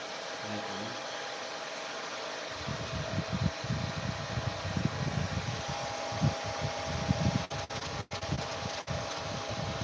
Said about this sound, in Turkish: kurutma makinesini getirdik